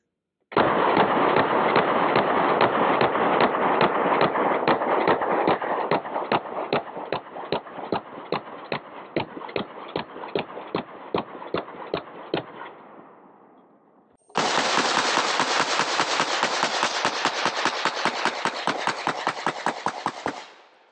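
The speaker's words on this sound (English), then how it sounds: "it can take a whole bunch of pistol rounds and be just fine too" Rapid strings of 9mm pistol shots fired from an AP5 with an 8-inch barrel and a suppressor strike a rifle-rated armor plate, two long bursts of sharp regular cracks separated by a brief pause.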